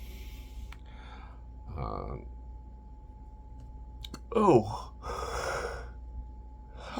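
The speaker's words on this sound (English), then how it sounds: "Don't mean to start yawning" A person yawning mid-sentence, a drawn-out breathy gasp with a voiced rise and fall, close and moderately loud, alongside soft clicks and brief spoken interjections.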